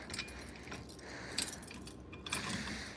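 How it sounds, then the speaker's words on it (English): A bunch of fire alarm keys jangling close by, bright metallic clinks and rattles in several short bursts over a faint background hiss, with no voices. "I have way too many fire alarm keys."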